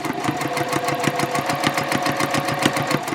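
A sewing machine stitches a fabric shopping bag at a steady, fast mechanical rhythm, close and loud, its needle beats ticking evenly throughout.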